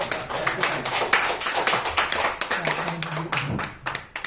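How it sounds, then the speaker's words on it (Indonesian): Audience clapping for a company CEO at an indoor team meeting: a steady run of close, sharp hand claps from a small group, fairly loud, with some voices murmuring underneath. "Tepuk tangan buat CEO kita."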